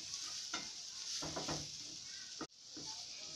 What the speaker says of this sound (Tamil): இப்போ இந்த பச்சை வாசனை போகிற வரைக்கும் 2 நிமிஷம் நம்ம நல்லா வதக்கிட்டோம் இதை